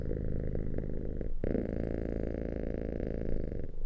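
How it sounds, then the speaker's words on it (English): A cat purrs close to the microphone in a steady, rumbling drone, broken by a brief pause partway through before resuming, with no talking over it. "did you like my kitty cat back there?"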